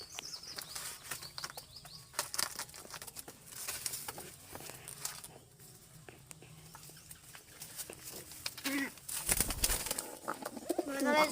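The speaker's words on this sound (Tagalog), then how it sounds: "Ito mga kalapatids." Pigeons coo in low, soft repeated calls close by, mixed with wing flutters, pattering and general shuffling, along with some faint background noise.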